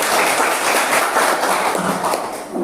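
Classroom of pupils at the start of a physics lesson claps loudly together in a dense, lively burst of applause that stays close and strong before easing slightly at the end.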